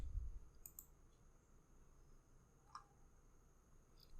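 Faint, sharp single clicks of a computer mouse on a Windows 10 PC, two quick clicks close together followed later by one more, over quiet room hiss.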